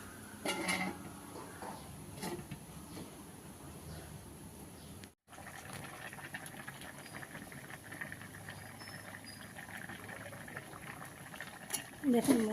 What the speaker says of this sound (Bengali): মোচাটা আমার অল্প সিদ্ধ হয়ে এসছে দেখতে পাচ্ছেন